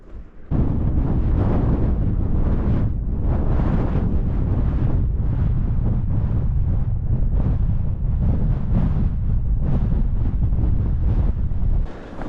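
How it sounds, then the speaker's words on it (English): Strong, steady wind buffets the microphone high on Scafell Pike in the Lake District at over 3000 ft, a loud continuous roar with gusty surges and no voices. "it's still windy"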